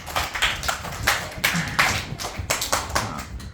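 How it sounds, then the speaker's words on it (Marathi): Schoolchildren at a village school's rope ladder activity clap together in quick, uneven bursts of bright hand claps, close and lively, with no talking. "टाळ्या वाजवा रे"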